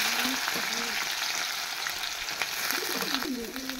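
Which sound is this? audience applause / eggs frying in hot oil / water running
eggs frying in hot oil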